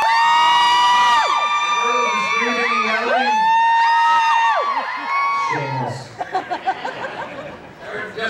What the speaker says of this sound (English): clapping your hands or the girls are screaming and yelling